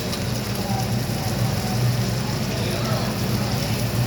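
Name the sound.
prawns added to hot pan, sizzling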